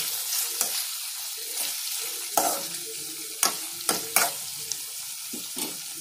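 Semiya upma stirred in a pan over a slow flame, a soft sizzle with several sharp scrapes and knocks of the spoon against the pan at irregular intervals, close by with no talk.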